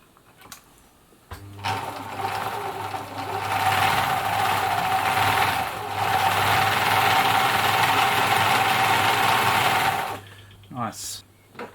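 Husqvarna Viking Practica 4010 sewing machine running, a close, steady mechanical whirring hum that ramps up and holds for several seconds before stopping, with brief handling sounds before and after.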